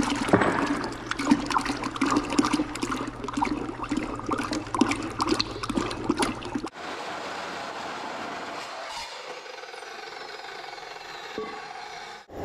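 Water mixed with antifreeze draining from an engine, a splashing, gurgling pour heard close for several seconds, then giving way to a quieter hiss and trickle.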